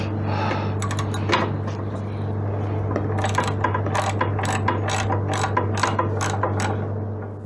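A ratchet with a 12mm socket on a long extension clicks in quick repeated bursts while loosening the rear exhaust header pipe clamp on a Suzuki V-Strom 650, close and crisp over a steady low hum.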